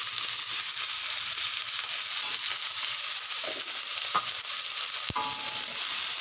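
Potatoes and eggplant frying with salt and turmeric stirred through them, a constant bright sizzle with occasional soft scrapes and one sharp knock, no speech.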